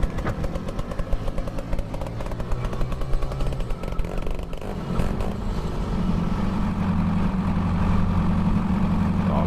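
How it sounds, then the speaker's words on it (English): In Farming Simulator 22, a small 2-stroke starter motor chatters rapidly before a tractor's diesel engine catches and settles into a steady, loud, low idle rumble, heard alone without talk. "you actually start a little 2-stroke motor, which then starts the diesel engine"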